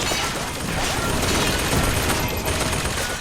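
Rapid turret gunfire in BioShock Infinite, a dense sustained burst of shots filling the whole stretch at close, loud range with no pauses.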